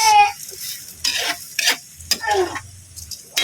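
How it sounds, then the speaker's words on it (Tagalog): A spoon scrapes and stirs rice around a frying pan for arroz caldo, producing repeated scraping strokes over a light sizzle, close and fairly loud, with no talking. "Kailangan natin haluin talaga ito para yung lasa dumikit sa bigas."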